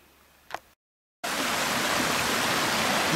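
A creek in the woods rushes with a loud, steady broadband roar close by. It breaks in after a brief faint noise and a moment of dead silence.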